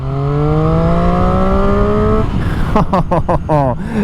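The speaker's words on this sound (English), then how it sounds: "the sound of the triple engine is so unique" A loud 600cc triple-cylinder motorcycle engine revs steadily upward, then snaps through several sharp blips and throttle bursts, close and raw.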